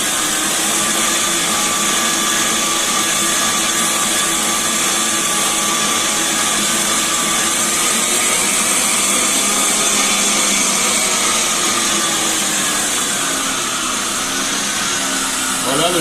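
Stand mixer kneading brioche dough at a higher speed, a steady loud motor whine with a constant tone holding for the whole stretch, no speech over it.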